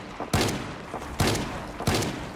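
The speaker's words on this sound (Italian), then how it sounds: "Non avete sentito gli spari fino adesso?" Three loud rifle gunshots fired in the zombie survival game Project Zomboid, evenly spaced about a second apart, each a sharp burst with short decay and no talk.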